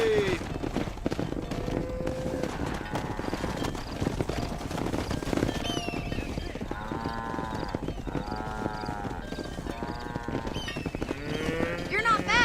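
A herd of cattle moos over and over in Red Dead Redemption, with low calls layered over steady clip-clop of horse hooves and a constant outdoor ranch bed of sound.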